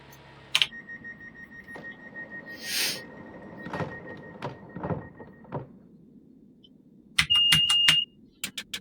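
The cab warning of a Class 375 electric train on the Medway Valley Line in Train Simulator 2018 holds a steady tone among clunks and thuds, then ends with a short burst of rapid, loud beeps.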